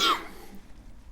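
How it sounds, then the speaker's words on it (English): A single short cough, close and fairly loud, fading quickly into quiet room tone. "I do have a little cough."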